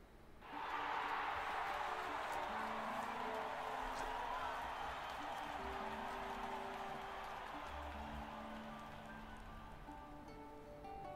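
A large crowd cheers in the video game Octopath Traveler 2, a broad steady roar that swells in at once and holds for several seconds, with background music faintly beneath.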